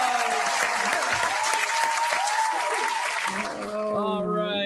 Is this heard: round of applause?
yes